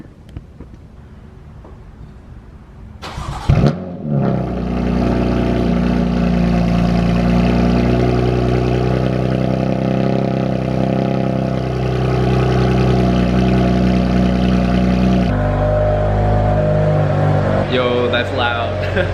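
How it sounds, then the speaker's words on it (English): A car with a new Active Autowerke equal length mid pipe exhaust cold starts with a sharp crank, then settles into a loud, steady, droning idle that runs near and unbroken for a long stretch. "First cold start with the new exhaust."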